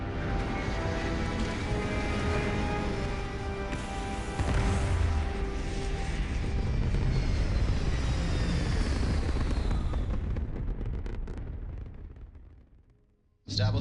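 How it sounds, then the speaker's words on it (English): A spaceship lifts off in Starfield with a loud, sustained roar of thrust. It rumbles heavily for about ten seconds, then fades away to near silence before a short burst at the end. "Liftoff looks good. All systems normal."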